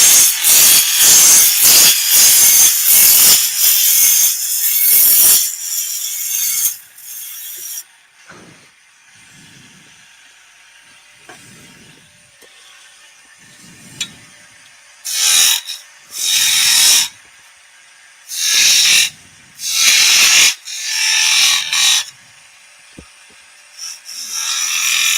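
A skew chisel cuts wood turning on a lathe, giving bursts of loud rasping, scraping shavings noise separated by quieter gaps, close and harsh, starting and stopping repeatedly.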